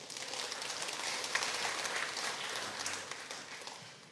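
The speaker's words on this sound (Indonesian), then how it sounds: "Tepuk tangan dulu buat Tuhan." A church congregation at a Sunday Batak-language service applauds, a dense, steady patter of many hands clapping at moderate distance that swells slightly and then tapers toward the end.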